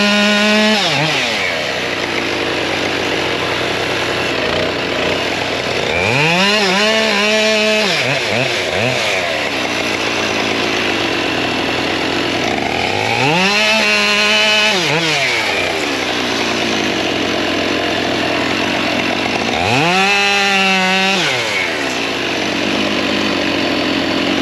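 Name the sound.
chainsaw cutting logs in a firewood yard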